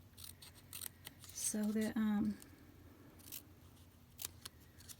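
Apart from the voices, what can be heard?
scissors trimming paper strips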